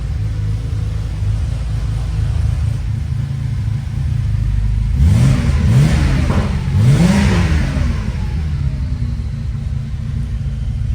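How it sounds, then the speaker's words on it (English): A 1987 Porsche 930 Turbo idles with a low rumble, then gets three quick throttle blips that rise and fall, before settling back to a steady idle. "I'll give it a bit of throttle so you can hear it."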